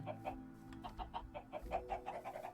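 Several chickens cluck in a Minecraft chicken coop, a steady run of short repeated clucks close by with no talk over them.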